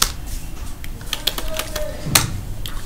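Keys tapped on a computer keyboard to enter a terminal command, a quick run of light close clicks over a few seconds, with a voice briefly audible underneath.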